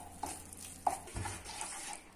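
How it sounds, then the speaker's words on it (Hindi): Maida burfi mixture being stirred in ghee in a pan, a soft steady scraping with faint sizzling and a few light utensil knocks against the pan, close by. "इसी तरह से चलाते रहना है, अगर हम नहीं चलाएंगे तो ये नीचे लग सकता है"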